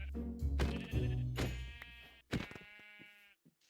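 Sheep in Minecraft give several loud, close, wavering bleats one after another, with short pauses between them.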